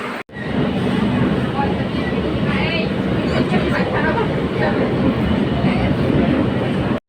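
Dum Dum metro station, Kolkata, with a train running: a loud, continuous roar and rumble of the metro lasting several seconds, with faint voices mixed underneath.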